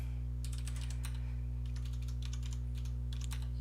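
Fast bursts of typing on a computer keyboard, crisp close key clicks in several quick clusters over a steady low electrical hum, with no talking.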